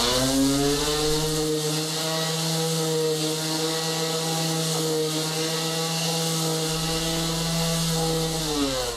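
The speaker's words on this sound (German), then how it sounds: "noch mit einem Schleifgerät plan geschliffen werden muss" Loud, steady power-tool whine with a strong buzzing hum runs continuously, the pitch holding nearly constant as a sander grinds a metal plate flat close by.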